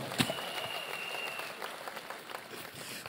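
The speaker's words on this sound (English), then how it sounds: "Let's clap for him over there." Congregation applause at a Sunday church homecoming service, steady and moderately loud throughout, with a whistle-like tone early on.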